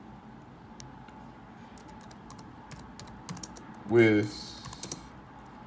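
Typing on a computer keyboard while scheduling a meeting in Zoom: light, scattered key clicks in a quiet room, with soft speech partly over them.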